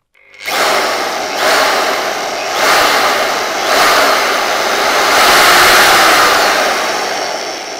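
A Rebir electric drill whirs loudly up to high speed after a click, its pitch rising and swelling in waves over several seconds.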